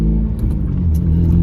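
Honda Civic Type R FN2 engine heard close up, a loud, steady low rumble with a deep exhaust drone holding an even pitch, no voices over it.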